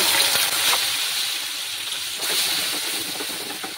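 Ground cumin and coriander paste sizzles in hot oil with whole cardamom and cinnamon for a Bengali vegetarian jackfruit curry, giving a steady close hiss that runs unbroken throughout, with no talking.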